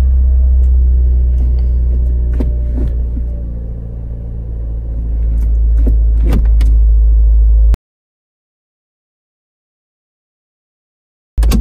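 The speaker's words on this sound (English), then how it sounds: "I'm just gonna go through the gears" A Toyota Auris running after a gearbox replacement hums with a steady low engine rumble while being run through the gears, with faint clicks from the shifting, then the sound drops out suddenly, leaving silence before a brief return.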